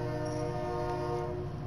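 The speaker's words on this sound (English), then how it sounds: "that's the sound trains make" A train horn sounds as one steady, sustained tone at moderate distance, unbroken for the short stretch.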